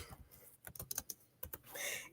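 Fingers tap on a computer keyboard in irregular clusters of quick, close keystrokes with short pauses between bursts.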